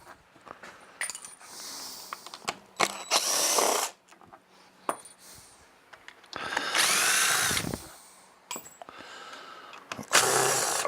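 A power drill backs screws out to remove a wooden chair seat, with several whirring bursts of one to two seconds between quieter clicks and handling noises, close and fairly loud.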